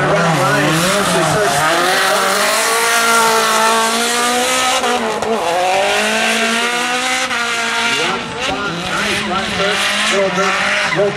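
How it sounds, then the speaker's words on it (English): A race car drifting during qualifying at Drift Atlanta 2010, its engine roaring and tires squealing loudly and continuously throughout, with shifting pitch as it slides around the course. "Little drift off everybody."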